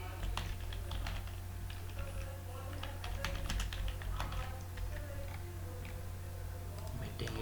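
Computer keyboard typing dummy entries into a Drupal meeting form, a steady run of light, close key taps over a constant low electrical hum, with no talk.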